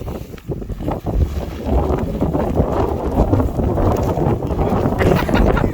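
Heavy wind on a walk near King's Lynn buffets the microphone in a loud, continuous rumbling roar with gusty swells and no talking.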